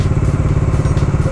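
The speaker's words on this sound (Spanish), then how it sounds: "Escucho diferente el escape ahorita mismo" A Bajaj Dominar 400 motorcycle on a highway at speed, its exhaust a loud, close, low rumbling drone with a quick pulsing throb and no voices.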